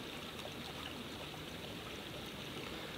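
A woodland creek flowing over stones, a steady, soft, continuous babble and trickle with no voices.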